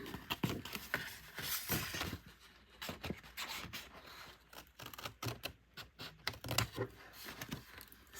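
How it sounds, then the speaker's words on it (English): Paper being cut for a handmade pocket-page mini album. Close, crisp snips and rustles come in irregular clusters, with scattered clicks and paper handling between them and no voice. "and cut this piece."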